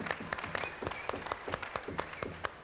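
Scattered applause from a small audience at a talk in the Kentucky hills, a few distinct claps repeating irregularly and fairly faint over a couple of seconds.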